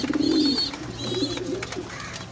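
Pigeons in a breeding room coo close by, a few soft, throaty, rolling calls in quick succession, no voices.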